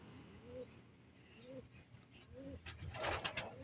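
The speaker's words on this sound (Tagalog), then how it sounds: "ito na yung kalapati ko, dalawa" Racing pigeons in a dirty coop in San Rafael, Bulacan, give soft, low coos in a steady repeating pattern, fairly faint, followed by a short burst of rustling and fluttering near the end.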